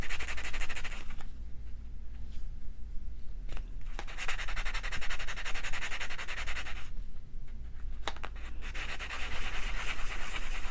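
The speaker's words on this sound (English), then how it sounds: "I am going to use my reliefing block on it just to brighten it up just a little bit." Close, steady rubbing of a very fine polishing block against a metal jewelry toggle, strokes running in continuous bursts with a pause between them.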